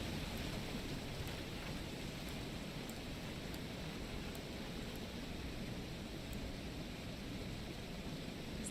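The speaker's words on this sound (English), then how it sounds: "Is it still the rain?" Steady rain hisses as a faint, even wash of noise with no pauses, soft and constant in the background of a quiet indoor evening.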